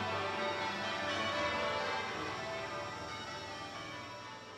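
Church bells peal continuously in Westminster, a dense, sustained wash of overlapping ringing that fades slightly toward the end, with no voices.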